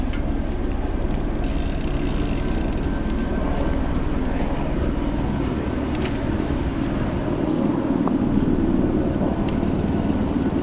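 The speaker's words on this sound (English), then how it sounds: "Again, hearing helicopters." A steady low engine drone of a helicopter flying overhead fills the whole stretch, loud and continuous, with no voices, in Whistler, BC.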